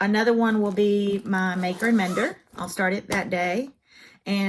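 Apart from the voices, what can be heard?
No distinct noise like a dog, phone or traffic.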